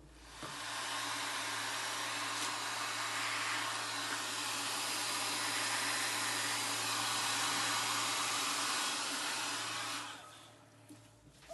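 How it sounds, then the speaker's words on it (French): A hair dryer blows steadily and loudly for about ten seconds over black acrylic paint in a fluid pour, a constant roaring whoosh of air, then switches off near the end. "venir recouvrir nos couleurs avec ce noir grâce à l'air d'un sèche-cheveux"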